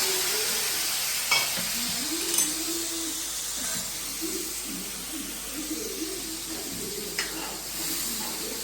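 A Kathiyawadi-style tempering sizzles in hot oil for a drumstick curry, a soft, even hiss with occasional pops and stirring, fairly quiet and steady.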